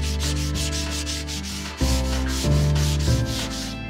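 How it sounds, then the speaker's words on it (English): Wood on a kids' table being sanded with 220-grit paper for a final pass after routing the edge. It makes a close, steady, rhythmic scratchy rasp of repeated strokes with no voices. "now I'm going to go ahead and do a final sanding with 220"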